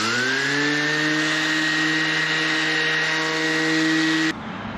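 A random orbital sander running at maximum power on a boat deck during a refit, a loud steady motor whine with a constant hum held for about four seconds before it cuts off abruptly.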